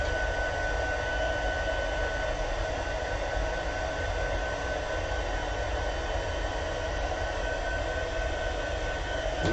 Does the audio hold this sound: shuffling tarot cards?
no